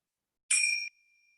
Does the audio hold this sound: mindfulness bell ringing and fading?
yes